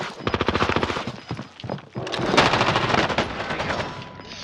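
Gunfire from a sniper and other weapons in a battle royale video game, loud rapid bursts of repeated shots in quick rhythmic volleys, then denser, heavier shooting close up, with no talking.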